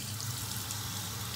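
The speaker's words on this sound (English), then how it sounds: "turn the water on" Water runs from a tap in a steady even hiss at close range, with no voices over it.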